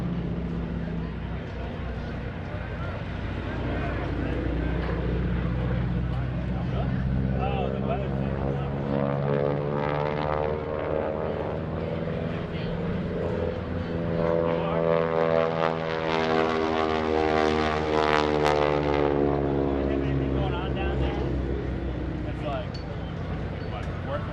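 A WWII propeller trainer airplane of about 5,300 pounds makes a low pass at the 2016 NAS Oceana Airshow, its engine drone rising and falling in pitch as it sweeps by, with someone talking over it.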